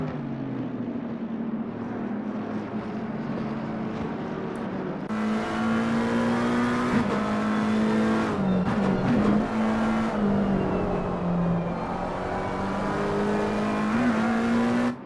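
A race car on a fast lap at Brands Hatch in Assetto Corsa Competizione, with a steady high engine drone that climbs and drops through gear changes, loud and continuous without a break, with no talking.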